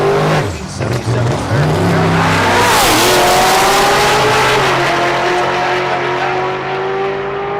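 A 2017 C7 Corvette and a 1977 car launching at a drag strip: loud engines rev, then roar away as the pitch climbs through the gears and slowly fades, with a brief tire squeal.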